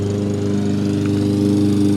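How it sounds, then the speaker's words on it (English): A lawn mower engine runs steadily and close by, a constant buzzing hum with no other sounds. "sorry about the lawnmower"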